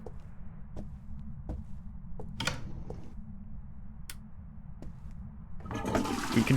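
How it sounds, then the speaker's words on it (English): A toilet flushes in the video game Phasmophobia, with a faint low hum and sparse clicks first, then the flush surging loud at the end. "We can flush the toilet still."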